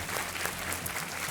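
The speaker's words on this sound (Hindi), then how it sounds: "बहुत बहुत तालियों के साथ इनका स्वागत" Studio audience applause welcomes a contestant on the Hindi quiz show Kaun Banega Crorepati; dense, steady clapping fills the whole short moment with no voices over it.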